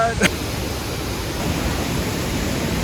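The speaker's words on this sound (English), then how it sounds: "It's just like an avalanche of water coming over the side." Steady, loud rush of a waterfall pouring over a cliff edge in mountainous Thailand, a continuous broadband roar filling the whole clip with a brief voice near the start.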